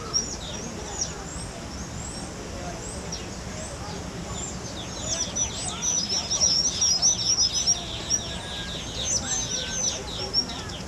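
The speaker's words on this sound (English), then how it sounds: "If you look up, you'll see lots of birds in these little nests in the trees." Many birds chirp and call from nests in the trees overhead at Walt Disney World's Animal Kingdom park, a dense, steady chorus of high twittering calls that builds louder in the second half over a soft outdoor background.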